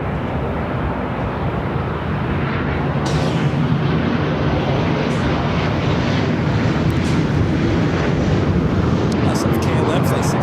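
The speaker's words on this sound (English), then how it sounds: "the Emirates A380 Super now heading up here for north side at takeoff" An Emirates Airbus A380 takes off at LAX with a loud, steady, broadband jet roar that holds for the whole stretch, with faint voices in the background.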